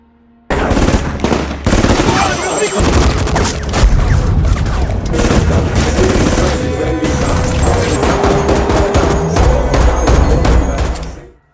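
Heavy gunfire in a commando assault on an airport holding hostages: dense, continuous automatic bursts and crackling shots with booming impacts, loud and sustained for about eleven seconds.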